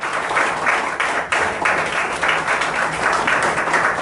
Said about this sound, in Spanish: Dale un aplauso al Señor, glorifica al Señor por eso.